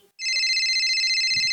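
A phone's ringtone starts abruptly for an incoming call, a loud, steady electronic trill that holds for over a second, with a brief low sound near the end.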